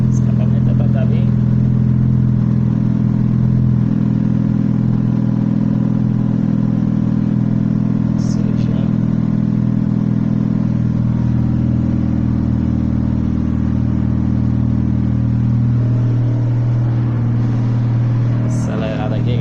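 A dirty car with its exhaust fitted runs close up, its engine holding a loud, steady low drone with only slight rises in revs and a sharp chirp near the end.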